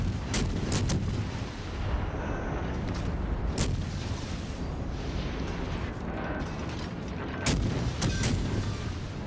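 Torpedo hits and explosions in the World of Warships naval battle game: several sharp blasts land over a rumbling battle bed, some in quick pairs, with a louder cluster near the end.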